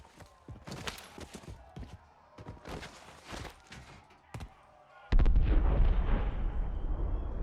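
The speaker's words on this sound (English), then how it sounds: "And this gun, you don't like the gun sound?" Rapid gunfire bursts and heavy shots in Call of Duty: Warzone, a string of sharp cracks through the first five seconds, then a loud sustained rumbling blast that lingers to the end.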